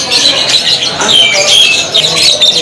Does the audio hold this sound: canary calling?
yes